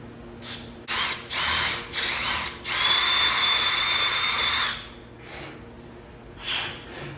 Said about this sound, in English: It calls for a 21/64 drill bit. Go in there now.